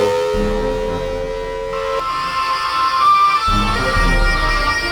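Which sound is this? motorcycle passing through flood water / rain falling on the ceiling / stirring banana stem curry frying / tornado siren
tornado siren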